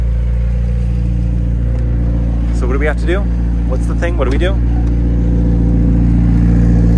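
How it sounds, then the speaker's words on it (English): A McLaren 765LT supercar engine runs with a steady, loud low drone throughout, holding an even pitch rather than climbing, while people talk briefly over it. "We get in, we rev it up, we take it for a ride."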